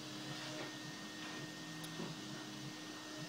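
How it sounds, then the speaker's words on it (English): A household vacuum cleaner hoovers a hallway, a steady droning whir with a constant tonal hum running unbroken and fairly close, no voices over it. "Hoovering."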